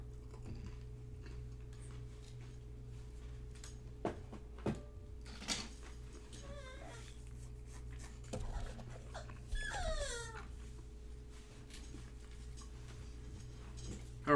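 A puppy whimpers and cries in short, thin bursts from inside a crate, fairly faint against a steady background hum, with a few knocks and rattles between the cries.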